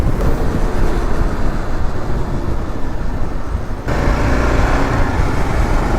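A Kawasaki KLR650 motorcycle rides down a road, a loud, steady roar of engine and rushing wind that continues unbroken throughout.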